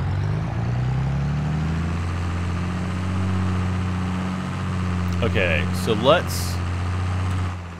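A tractor engine in Farming Simulator 22 idles with a steady, low, droning hum throughout. A voice briefly speaks over it, and a few short synthetic chirps sound near the end.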